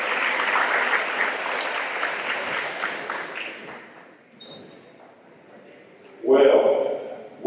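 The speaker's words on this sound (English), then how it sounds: "Please give me that round of applause for the 11th grade class." Audience applause at a high school football banquet for the 11th grade class: a dense, loud round of clapping that fades after a few seconds, followed by a brief quiet and a sudden burst of noise near the end.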